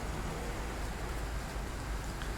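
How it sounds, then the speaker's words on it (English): Steady heavy rain in the Train Sim World game, a dense, even hiss of downpour that fills the whole moment with no talk over it. "That rain is, yeah, really is horrible."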